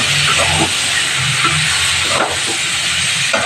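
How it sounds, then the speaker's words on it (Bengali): Loud, continuous hissing sizzle of eggplant and green tomato frying in hot oil with salt and turmeric, with faint clinks and stirring sounds underneath. "আর এই তেলের মধ্যে আমি বেগুন আর কাঁচা টমেটো যেটা দিয়েছি এটা একটু ভেজে নিচ্ছি, নুন আর হলুদ দিয়ে।"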